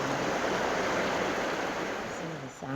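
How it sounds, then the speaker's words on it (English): Water rushes and flows steadily at close range through a natural outdoor spot, a broad continuous wash like a stream or small falls, with a brief low murmur of a voice near the end. "Listen to the sound of that water."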